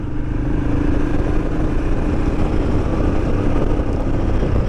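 A retro-style motorcycle engine running steadily and loudly nearby, a dense rumbling drone with a constant even throb and no pauses.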